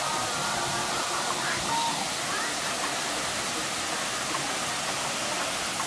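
A waterfall at the Hacienda Nápoles water park roars as a steady, even rush of falling water, broad and close, with faint voices underneath.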